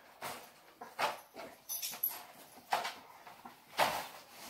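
Two black German Shepherds kept in large kennel cages give off faint whimpers and whines. They come in several separate bursts, with quiet gaps between them.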